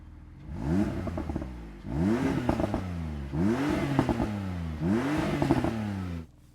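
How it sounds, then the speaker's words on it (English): Porsche 911 Carrera 3.0T, a 2018 991.2 with PDK, blips its exhaust in four strong rev bursts about a second and a half apart, each note rising and falling and finishing with crackling pops, loud and close with no talking. "I will roll down my window and just get you to hear that exhaust sound one more time"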